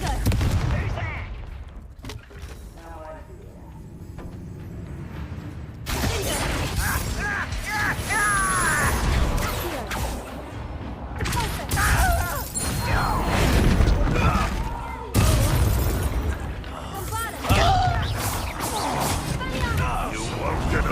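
Bombarda and Confringo spell blasts fired in combat in the Hogwarts Legacy video game, a series of crashing, crackling impacts with mechanical clatter and busy battle noise, interrupted by a short quieter stretch, with voices shouting under the action.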